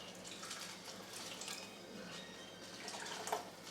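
Water being poured into spaghetti sauce with chopped parsley, a steady splashing trickle that runs for a few seconds, fairly faint and with no voices.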